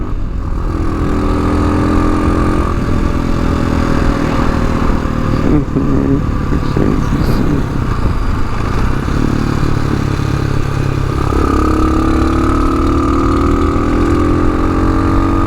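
A TaoTao Tbr7 and a Yamaha FZ6R motorcycle ride together, a loud, steady engine drone heard from on the bike with wind rush, the pitch climbing and falling as the rider accelerates and eases off.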